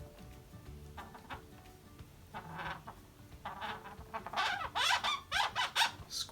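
Marker tip squeaking on a balloon while a balloon cactus is being decorated, a run of short, bright, high squeaks that grows louder and denser toward the end, close up and with no talk.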